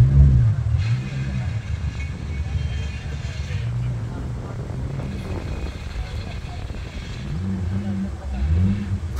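A Toyota 80-series car revs its engine at a Supra meeting held at a Toyota museum, a deep steady rumble that swells near the start and end, with people talking over it throughout.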